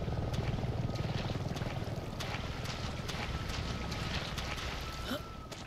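A helicopter in the video game Resident Evil 7, heard near a refinery as a dense, continuous whooshing rotor roar with a rough, windy texture, holding steady throughout at moderate loudness.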